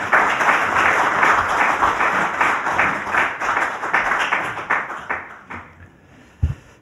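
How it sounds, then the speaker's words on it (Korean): An audience at a Korean political launch ceremony for a constitutional reform citizens' council applauds steadily. The clapping is dense and sustained, thins out toward the end and finishes with a single sharp knock. "박수 부탁드립니다."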